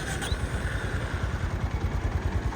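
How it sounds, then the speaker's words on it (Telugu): Honda CB350C motorcycle idling, its exhaust giving a steady, close, low thumping pulse with a faint mechanical clatter, alone without talk. "ఇప్పుడు మీకు ఎగ్జాస్ట్ సౌండ్ ఎలా ఉందో వినిపిస్తాను."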